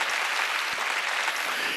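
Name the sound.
church congregation applauding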